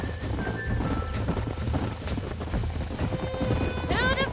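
Horses in the Red Dead Redemption video game clop steadily along at a walk, with a high whinny rising near the end over a dense, continuous game soundscape.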